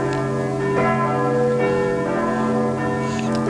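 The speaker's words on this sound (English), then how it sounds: "a nearby church bell was tolling a funeral knell" A large church bell tolls a funeral knell slowly and steadily, each deep stroke ringing out and humming on beneath the next, with no other sounds.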